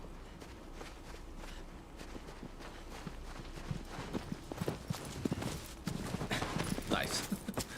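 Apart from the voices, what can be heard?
horse galloping hooves in a video game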